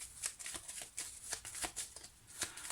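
Tarot cards being shuffled by hand during a reading, a run of quick crisp riffling flutters and soft slaps repeating every fraction of a second, close and moderately loud, with no talk over it.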